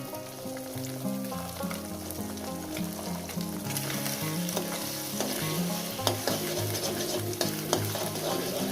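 Ivy gourd frying with egg in a pan, a continuous close sizzle with steady stirring and scraping and occasional sharper utensil knocks.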